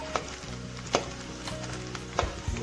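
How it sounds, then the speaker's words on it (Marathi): Edible gum (dink) puffing up as it fries in hot oil for sugar-free date and dry-fruit laddoos, a steady close sizzle broken by a few sharp pops and crackles. "डिंक फुलेपर्यंत तळून घेऊया"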